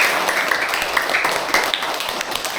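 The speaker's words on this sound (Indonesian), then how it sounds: "Kita satu tepuk tangan buat temennya." An elementary classroom gives a short round of clapping for a classmate, many small hands patting unevenly, brisk and fairly loud, fading slightly toward the end.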